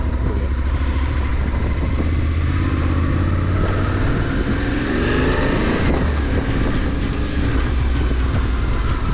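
Motorcycle riding along a road, giving a loud, steady engine drone with constant wind rush and rumble. It fills the whole stretch without a break, and no voice is heard.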